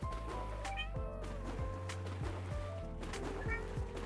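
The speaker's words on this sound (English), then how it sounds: "Oh my god, Martin makes a little kitty cat noises." A Final Fantasy XIV character gives repeated kitty-cat meows over steady game music, several short mews spread across the stretch with no talking.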